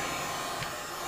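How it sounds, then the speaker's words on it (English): A heat gun running on its low setting blows a steady, even whoosh of air while warming 3M stone chip protection film on a car. The hiss stays constant and fairly quiet throughout, and nobody speaks. "we'll get a bit of heat on it with my heat gun on a low setting"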